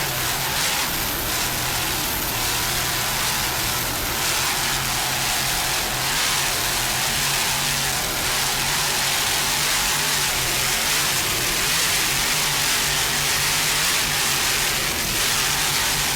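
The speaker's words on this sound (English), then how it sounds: "Just listen to those Sterling inboards." Sterling inboard engines of offshore racing powerboats roar on Lake Michigan, a loud continuous engine drone with a steady throaty rumble and rushing water and wind noise throughout.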